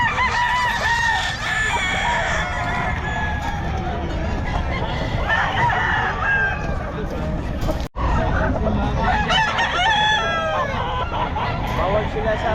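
Game fowl stags for sale at a crowded market crow loudly and repeatedly, overlapping one another, with clucking and a steady babble of people talking nearby.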